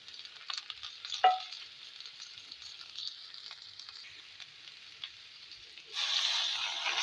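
Fried fish added to a pan with boiled, washed Nutrela chunks for a healthy Bengali curry, giving soft continuous sizzling with scattered crackles, a brief louder spatter near the start and a brighter hiss swelling toward the end.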